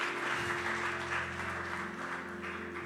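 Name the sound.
church congregation applause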